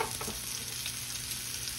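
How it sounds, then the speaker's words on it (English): Meat patties sizzling steadily in a hot cast iron skillet, a close, continuous crackling hiss with no voices. "we're moving on over here to the blackened skillet. Cast iron skillet."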